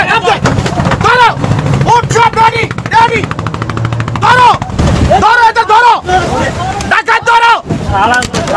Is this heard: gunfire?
yes